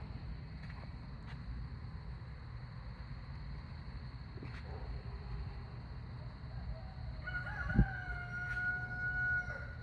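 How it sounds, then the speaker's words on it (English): A rooster crows briefly and faintly at night, around 2 a.m., near the end of the stretch, over a steady low background hum with no talking. "You could hear the chicken in the background."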